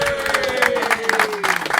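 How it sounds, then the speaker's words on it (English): A television studio audience applauds briefly, a dense patter of claps with light cheering underneath and a sustained tone running through it, short and fairly close. "Give a round of welcome. applause, everybody"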